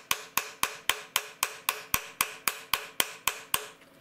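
Light hammer taps peen a thin metal tab into a rivet, about fourteen sharp, evenly spaced metallic strikes in a steady rhythm, close and clear, with no talking.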